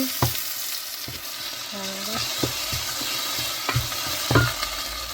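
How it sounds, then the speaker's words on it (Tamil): Onions sautéing in a pan for sambar, part of a vegetarian meal, with a constant sizzling hiss broken by a few sharp spoon clinks and scrapes, plus a brief tonal squeak in the middle. "சாம்பாருக்கு வெங்காயம் வதங்கி கொண்டிருக்கு"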